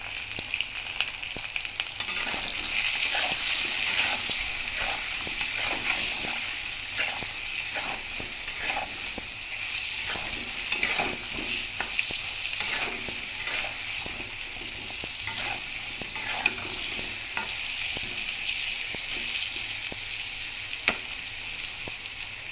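Pointed gourd with turmeric and salt fries in a pan with a steady, bright sizzle of hot oil, broken by frequent scraping stirs of a utensil, close and continuous with no talking.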